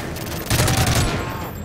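A short burst of rapid automatic gunfire from a weapon in the shooter game Modern Warfare 3, loud and close, lasting under a second before fading into a ringing tail.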